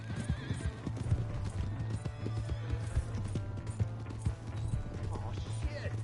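Horse galloping in the video game Red Dead Redemption 2, rapid rhythmic hoofbeats with a whinny, fairly faint and continuous, mixed under voices talking.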